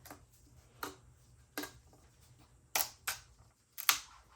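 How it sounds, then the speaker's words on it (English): Small flathead screwdriver prying an old valve cover gasket out of its groove on a Kia Spectra engine: six sharp clicks and pops at irregular intervals, close and fairly quiet, separated by near silence. "Take a little pocket screwdriver, like a little flathead. You just pry it up, pull it out."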